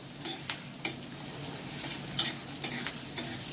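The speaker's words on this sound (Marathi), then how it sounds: "तेलामध्ये बारीक चिरलेला कांदा, आणि कांदा आपल्याला चांगला परतून घ्यायचा आहे." Finely chopped onion sautéing in hot oil in a kadai over high heat, a constant soft sizzle punctuated by several sharp spatula scrapes and taps, close and without voices.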